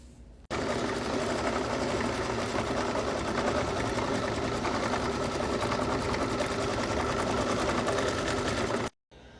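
An embroidery machine tacks down fabric on a hooped beach bag, a loud, steady, rapid mechanical stitching chatter that runs continuously for about eight seconds, then stops.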